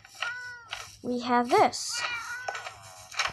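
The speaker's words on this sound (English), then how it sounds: "We got these monster spawners with all these cats in here" Several cats meow in a Minecraft room packed with cat spawners, rising and falling cries that overlap one another, while a young voice speaks briefly among them.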